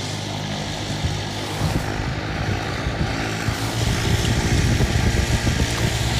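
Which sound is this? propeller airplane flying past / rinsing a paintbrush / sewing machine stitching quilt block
propeller airplane flying past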